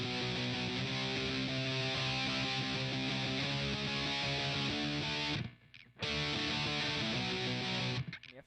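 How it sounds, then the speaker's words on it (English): A distorted electric guitar plays a loud, steady run of power chords, with a brief gap near the end before the chords return. "It's just power chords."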